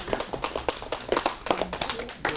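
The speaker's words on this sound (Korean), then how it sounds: "빨리 가시라고 우리가 손뼉을 빨리 쳐" Lecture audience clapping at the close of a garden-school talk, a brisk, fairly close burst of many hands applauding steadily for a couple of seconds.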